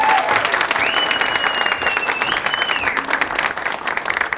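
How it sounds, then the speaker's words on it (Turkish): A studio audience at a Turkish comedy show claps for Taner, giving dense, steady applause throughout, with a faint whistled tone sliding above it. "Efendim kocaman alkışlar Taner'e gelsin."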